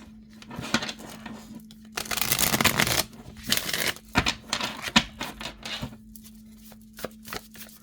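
Tarot cards being shuffled close up, with bursts of riffling and flicking, crisp papery snaps coming in uneven clusters against a faint steady hum.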